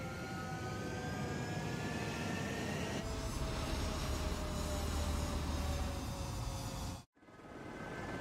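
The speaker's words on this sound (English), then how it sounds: "Mage 2, clear for takeoff." A jet fighter spools up and takes off in the combat flight game Ace Combat 7: a loud, steady engine roar with rising whine for several seconds, then a sudden cutoff followed by quieter rumble.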